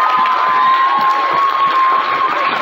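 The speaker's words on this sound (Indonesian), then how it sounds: "beri tepuk tangan kepada adik kita nih" A crowd at a primary school Children's Day celebration in Penampang cheers and claps for a child, a loud, sustained mix of shouting young voices and applause with a thin whistle-like tone running through it.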